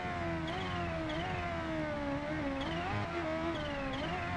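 Kawasaki H2R motorcycle engine held at light, steady throttle, a continuous droning whine with small rises and dips in pitch, close and loud throughout with no talking.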